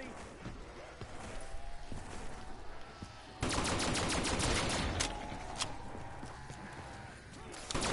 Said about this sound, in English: I'm just gonna use a shotgun the whole fucking round right here